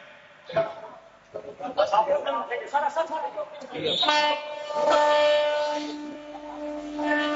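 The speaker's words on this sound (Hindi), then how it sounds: "अभनपुर से ये ट्रेन रवाना हुई है" A MEMU passenger train pulls out of Abhanpur station on the Abhanpur–Raipur rail section, its horn sounding in sustained loud blasts over crowd noise and a voice, with rumbling movement beneath.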